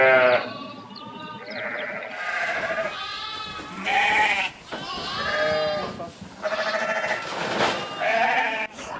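Ewes on a sheep farm beside a solar field, several loud wavering bleats overlapping close by in repeated bursts, some nearer and some farther off.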